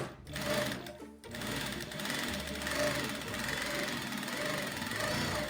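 A sewing machine stitches across fabric for a dish towel border, running in a fast, steady mechanical whir up close after a brief stop near the start.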